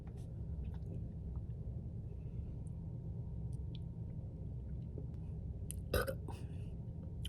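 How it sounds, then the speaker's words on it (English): One short, loud burp from a person close by breaks a long quiet stretch over a low background hum near the end, with a few faint clicks and rustles scattered earlier. "that's gonna cause some burps"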